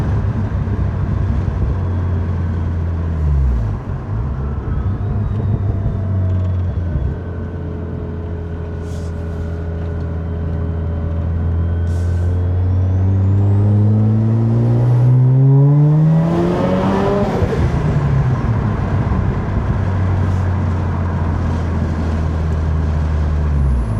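Turbocharged Mazda RX8 with a five-speed gearbox accelerating hard. The engine note climbs through two quick gear changes, then winds up in one long, loud pull before easing off. It is heard from close up, with no talking.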